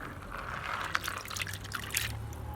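Soaked grain being rinsed for pap (ogi), with water draining and dripping off it in light, uneven trickles and a few sharper splashes over a low steady background.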